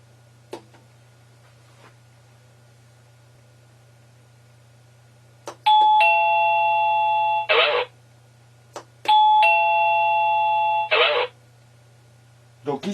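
Two chimes from a wireless doorbell, each a sustained multi-tone ring lasting about two seconds, with a brief click before each and a steady low hum throughout.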